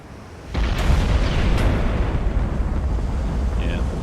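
A battleship shell salvo landing in the naval game Ultimate Admiral Dreadnoughts: a sudden loud boom followed by a sustained roaring rumble of impacts and splashes that lingers for several seconds.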